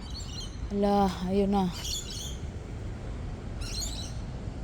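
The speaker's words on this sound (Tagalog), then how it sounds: "Yung mga ibon to" Outdoors in autumn, a bird gives two clear, descending whistled calls close by, followed by a faint chirp, with a person's voice speaking lightly beneath.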